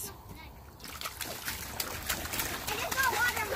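Water splashing and sloshing during children's outdoor summer play, a steady run of wet splatters and trickles with kids' voices talking and calling over it.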